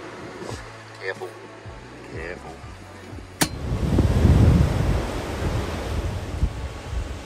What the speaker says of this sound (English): The wind's freshening from the north and out the back here, a bit of a storm brewing.